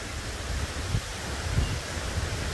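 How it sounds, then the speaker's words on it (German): Light wind blowing through palm trees during an approaching storm, a steady broadband rushing hiss with soft gusts and rustle, no voices. "Noch ist es ein kleines Wind."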